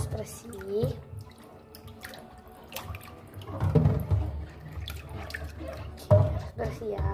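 Water runs and drips while a plate crusted with spilled, sticky coffee grounds is rinsed and scrubbed at a sink, a close, uneven trickle with splashes, heard under a person's speech throughout.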